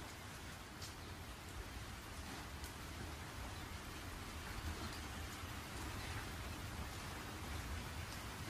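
Steady, dense rainfall pours down without a break, a constant wash of hiss with a low rumbling undertone like distant thunder, from an anime film.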